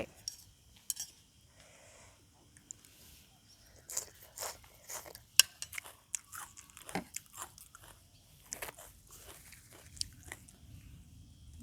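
Someone chews crunchy eggplant with a fresh shrimp and lotus stem salad eaten with rice noodles, giving close, irregular crisp crunches and bites mixed with occasional clinks of cutlery.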